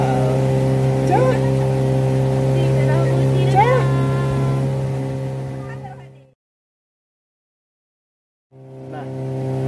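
A small speedboat engine heading out to Kapok Island in Aceh Besar drones steadily with a strong low hum and brief voice-like swoops over it, then cuts to silence for about two seconds before the engine noise returns.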